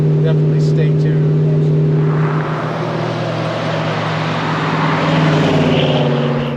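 A 1969 Chevrolet Chevelle SS396 clone with a 396 cubic inch V8 drones steadily on a test drive, a loud low engine hum with rising road and wind noise as the car moves along.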